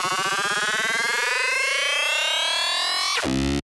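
A synthesizer riser built from stacked oscillators sweeps steadily upward in pitch, loud and buzzing, for about three seconds. It ends in a short distorted burst and then cuts to silence.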